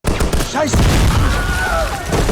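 A chaotic burst of wartime gunfire from a war flashback in the Spider-Noir series sounds loud and close. Scattered shots and booms mix with shouting and other dense battle noise for about two seconds.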